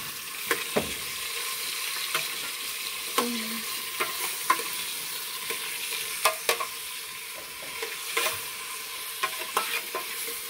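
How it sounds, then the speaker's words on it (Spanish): Chicken frying in a pan with a steady sizzle, broken by scattered clicks and scrapes of stirring, close and continuous with no talking. "Ahí va quedando el pollo. Ahí le vamos a dar tiempo que se sofría un poquito"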